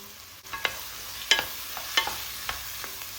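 Tomato paste and tomatoes hitting a pan of spinach, giving light sizzling with a few sharp clinks and scrapes of stirring at an even, low level, no voices.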